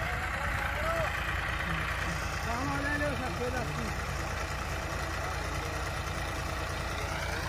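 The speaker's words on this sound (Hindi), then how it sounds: "देखो ये ट्रैक्टर चल रहा है, लौट के आ रहा है" A tractor runs in a potato field near Tundla during the red Holland potato harvest, a steady mid-to-low engine drone near the listener while people talk over it throughout.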